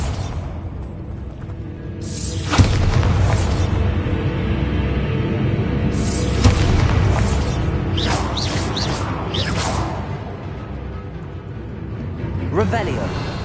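Bombarda spell blasts go off in Hogwarts Legacy while egg sacs are destroyed, several loud booming bursts with whooshing impacts spread across a constant game soundscape and speech.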